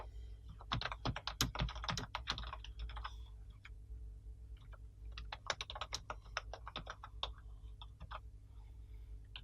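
Java code is typed on a computer keyboard in quick clusters of crisp, close key clicks, with a dense burst early on, then a lighter, scattered run of keystrokes.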